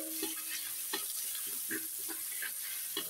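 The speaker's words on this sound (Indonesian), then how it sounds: "Dan kita akan tumis bumbu yang saya haluskan." Ground paste of shallot, garlic, candlenut and ground pepper stir-fried in oil, a steady soft sizzle with scattered scraping stirs from a spatula, no voices.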